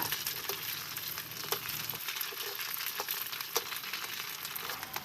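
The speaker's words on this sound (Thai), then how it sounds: "แล้วก็ทอดลูกชิ้นกัน ต่อเลยค่ะ" Meatballs frying in hot oil, a dense steady crackling sizzle with a couple of sharper pops and light stirring, heard up close with no speech.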